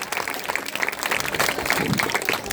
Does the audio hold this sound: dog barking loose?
no